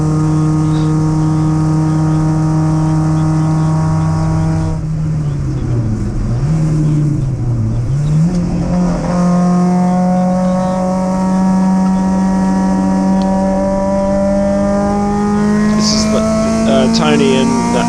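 MG cars racing on a circuit during the last lap, a loud steady engine drone from inside the car with a dip and recovery in pitch as the driver shifts and accelerates, with talk over it.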